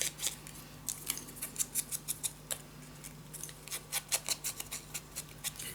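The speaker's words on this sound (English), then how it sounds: "So I always like to cut the corners a little bit." Scissors snip through the corners of a small paper scrapbook tag for a Christmas mini album, a rapid run of crisp, close cuts in quick irregular bursts against a quiet room with a faint steady hum.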